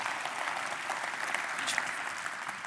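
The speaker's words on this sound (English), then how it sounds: "that deserves a round of applause, okay?" Keynote audience claps in a steady, dense round of applause, fairly loud and continuous throughout.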